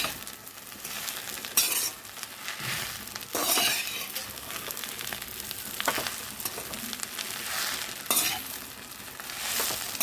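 Gongura leaves frying in a pan while being stirred, a continuous sizzle broken by scraping strokes of the spoon along the pan bottom, close and steady with no talk.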